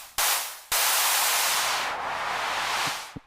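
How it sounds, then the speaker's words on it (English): Broadband white noise from a PWM Malevolent analog synthesizer, a steady loud hiss cut by two brief gaps at the start, easing slightly near the end, with faint clicks as it is brought down. "And I think it's just white noise."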